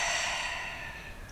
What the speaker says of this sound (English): a longer exhalation out through the mouth